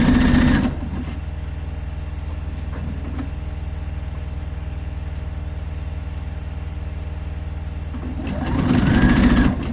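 A sewing machine stitches the back and front pieces of a top together, running steadily and close for most of the stretch with a louder burst at the start and end.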